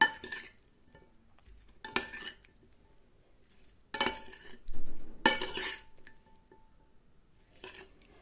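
Marinated pork ears stirred in a container with sauce produce several separate bursts of wet squelching and clinking against the sides, close and with quiet pauses between, no talking.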